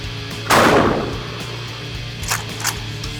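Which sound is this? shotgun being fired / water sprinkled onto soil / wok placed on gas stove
shotgun being fired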